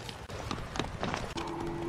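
Roach, a horse in The Witcher 3: Wild Hunt, gallops with quick, rhythmic hoof clip-clops over a busy game soundscape of background tones and effects.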